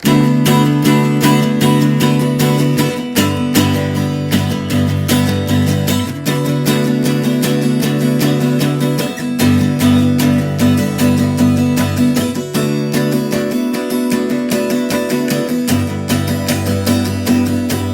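Acoustic guitar chords strummed steadily and loudly, ringing on with brief pauses between changes, played alone without any voice.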